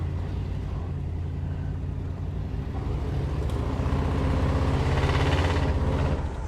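A 1956 Mercury Monterey's engine runs steadily, with a deep, continuous low rumble that grows slightly louder and rougher toward the end, heard up close without talk.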